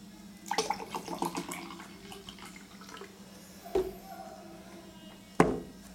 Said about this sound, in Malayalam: അതിനുശേഷം കുറച്ച് വെള്ളം ഒഴിച്ചു കൊടുക്കുക.